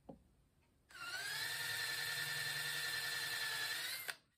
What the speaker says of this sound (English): Now you can drill the holes